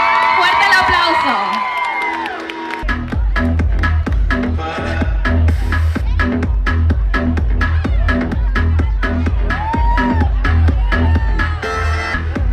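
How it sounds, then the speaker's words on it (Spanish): A crowd at a traditional town-festival pageant in Nuevo Galeana, Guerrero whoops and cheers, with a voice over a loudspeaker at the start, then cheering continues over a loud, steady thumping music beat. "¡Fuerte el aplauso!"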